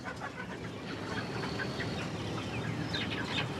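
Broiler chickens being caught cluck and squawk in a busy flock, close and fairly quiet, with scattered higher cries over a constant low rustle.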